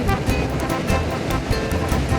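Ocean waves wash steadily onto the shore beside a seaside breakfast in Argentina, a loud continuous surf roar with slight wind buffeting, no voices.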